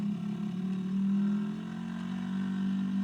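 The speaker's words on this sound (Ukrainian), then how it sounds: "у мене є ось такий звук мотору" A steady engine hum with a strong low-pitched tone, rising and falling slightly in loudness, running continuously without any voices.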